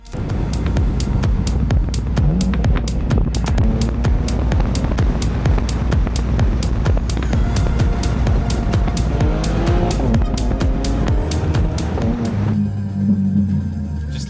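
A BMW M3 Touring engine revving hard while driving, loud and close, with a rapid pulsing throb and rising and falling revs that run unbroken throughout before settling toward the end.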